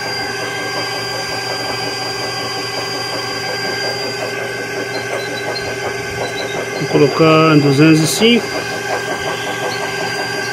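A small engine of a homemade generator built from a washing machine drones steadily under the heavy load of an electric oven, its hum constant, while a person speaks briefly over it.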